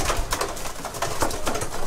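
Racing pigeons coo softly and repeatedly at close range inside a loft amid a dense, busy background of fluttering and shuffling.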